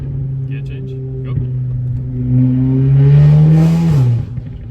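An Audi S3 at full throttle, its engine note climbing steadily and growing louder, then a brief dip at a gear change near the end, heard from close up.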